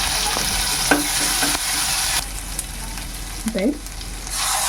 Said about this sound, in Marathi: इथं राई चांगली तडतडली की कढीपत्ता घालून घ्यायचा